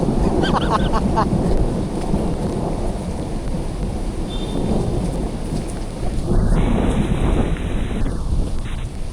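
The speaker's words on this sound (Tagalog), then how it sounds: "Totoong ulan to" Heavy rain pours down steadily with a deep rumble of thunder and gusty wind, loud and continuous throughout.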